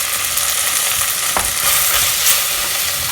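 Red chili powder and turmeric are stirred and fried together with boiled black chana and rice for a fenugreek pulao, giving a loud, even sizzle with a soft scrape of the spoon.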